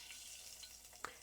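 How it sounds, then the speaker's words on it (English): A piece of squash drops into hot vegetable oil and fries with a faint, steady sizzle, joined by one brief louder pop near the end. Nobody speaks. "See how it just raises up and sizzles?"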